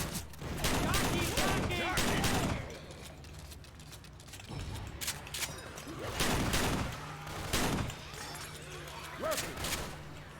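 Frag rounds fire in bursts during a Left 4 Dead 2 custom map: loud, sharp volleys of gunfire with mechanical clacks between them, mixed with other game noises.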